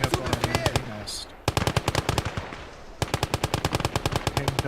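Rapid machine gun bursts pound from an MG nest in the video game Call to Arms, loud and close, in several sustained strings of rhythmic shots separated by brief pauses.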